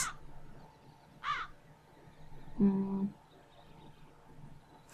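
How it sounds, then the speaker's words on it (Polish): Crows cawing in the video game The Dark Eye: Memoria, two separate harsh caws spaced about a second apart, the second louder and longer, over a quiet ambient game background with a soft tonal sound. "Musimy zwabić jakieś te 2 wrony tutaj."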